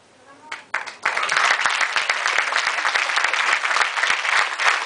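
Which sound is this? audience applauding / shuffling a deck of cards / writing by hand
audience applauding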